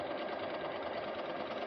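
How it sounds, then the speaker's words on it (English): Cover stitch machine chainstitching with a center needle and looper, a fast, steady mechanical whir and rapid needle clatter heard close and continuous, with no talking. "And it stitches just like a regular sewing machine."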